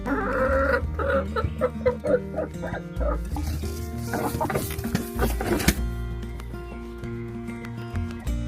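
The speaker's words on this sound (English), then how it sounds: "I love watching the hens." Hens cluck and squawk repeatedly at close range in a coop in rural Austria, a busy, uneven chatter of several birds with no talking.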